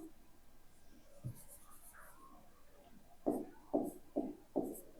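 A maths step is written on a board in a classroom: a few soft scratching strokes, then four louder, evenly spaced rubbing strokes, close and with no talking.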